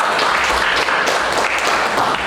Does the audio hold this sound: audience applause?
yes